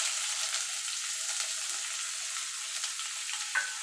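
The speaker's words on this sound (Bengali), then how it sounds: "এবার পেঁয়াজটাকে একটু ভাজা ভাজা করে নেব।" Chopped onion fries in oil in a pan after garlic, a soft, steady sizzle heard close by with a faint stir or clink near the end.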